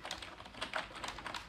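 Typing on a Trust GXT 830 Avonn keyboard at a desk, a rapid, uneven run of light clicking keystrokes heard close up with no voices.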